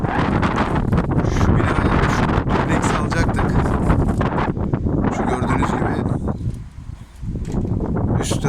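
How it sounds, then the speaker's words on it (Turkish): Strong wind buffets the microphone with a steady roar, nearly continuous and loud, easing briefly near the end; a voice speaks underneath. "Acayip rüzgar var bugün."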